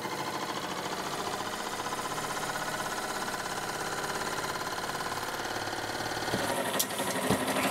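Experimental acoustic Stirling engine running, a steady rapid mechanical chatter with a fine regular pulsing texture, continuous and fairly quiet, with a couple of sharp clicks near the end.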